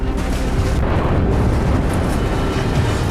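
Continuous heavy rumbling and booming from Grad rocket explosions in Bakhmut during wartime, a dense rolling barrage with no clear gaps, loud and sustained throughout.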